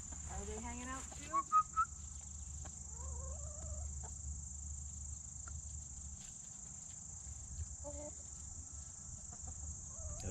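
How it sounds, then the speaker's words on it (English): Curious chickens clucking in a backyard garden during a potato dig, a few short calls nearby, sharp chirps and a steady insect buzz running underneath, with a voice speaking briefly. "Look at the birds over here, they're very curious."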